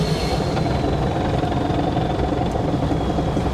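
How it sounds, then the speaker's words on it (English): A car's transmission whines and grinds with gear noise while driving, a loud continuous mechanical drone with a steady high tonal whine riding over a rumbling low end, with no talk. "I'm getting a lot of gear noise out of the transmission."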